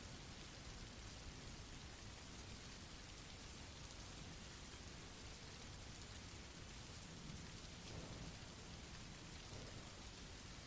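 Steady, dense rain falls continuously at an even level, a soft hiss with faint low rumbles and no voices throughout.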